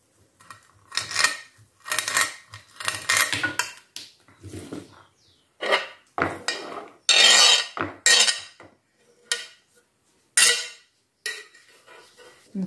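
Chives and parsley chopped with a knife on a board in an outdoor kitchen, giving close, crisp bursts of rapid chopping taps separated by short pauses, fairly loud and without speech.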